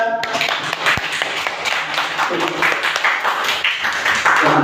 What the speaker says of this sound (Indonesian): Tepuk tangan ya bisa.